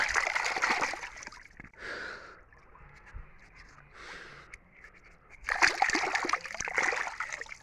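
Beets rinsed in a stream, with bursts of splashing and sloshing water at the start and again near the end, a quieter trickle and a few breathy sounds between.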